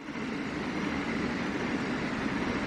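A Baby Bullet passenger train in Train Sim World 2 on the Bay Area line rolls past with a steady, dense rumble and rushing roar, loud and even throughout, with no voices.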